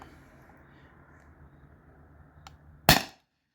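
Beeman BP50 air pistol firing a 2.9 gram rubber steel ball outdoors, a single sharp close crack after quiet background hiss, cutting off abruptly into silence.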